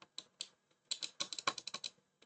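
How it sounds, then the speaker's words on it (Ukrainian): Rapid, light computer mouse clicking taps close to the microphone during a Bedwars game, scattered at first then coming in a quick irregular burst, crisp and quiet. "Це я клікаю зараз"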